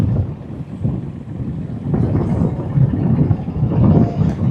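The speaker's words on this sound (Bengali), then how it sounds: "আমাদের লঞ্চটা একটু ছোট হলেও বাট ভালো স্পিড আছে আমি ভাবিনি যে এতটা দ্রুত বেগে চলবে" A small passenger launch speeds along a river between Dhaka and Munshiganj, with a steady low engine drone and water rush plus wind buffeting the microphone throughout.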